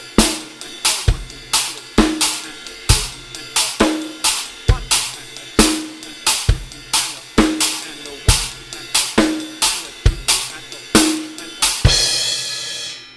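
Full drum kit plays a four-bar phrase of a three-note stack pattern over a 4/4 groove, with sharp, evenly spaced hits and cymbal accents, closing on a ringing crash; loud and close with no talk.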